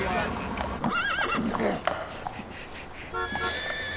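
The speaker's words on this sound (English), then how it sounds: "Where's the goddamn horse?" A horse loose in Central Park whinnies loudly with a wavering neigh, then clip-clops on hard ground with scattered hoof strikes and a second shorter whinny, while people talk and a faint car horn sounds in the city background.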